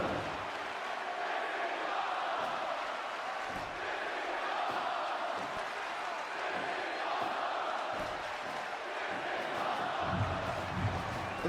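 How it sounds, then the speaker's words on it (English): A packed arena crowd at a professional wrestling show roars continuously, a dense, steady wall of cheering and shouting with occasional swells throughout. "And the crowd is loving this already."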